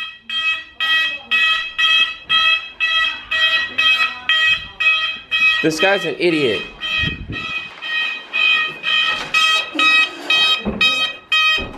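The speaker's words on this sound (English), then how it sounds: "You really set the fire alarm off." A fire alarm set off by cooking beeps loudly in a steady pulsing pattern, close and piercing, while people talk and shout over it.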